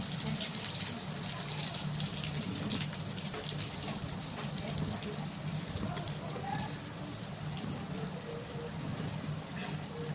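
Fritters frying in a pan of oil over a low gas flame, a dense, steady crackling sizzle that runs without a break, close and fairly loud, with no talking.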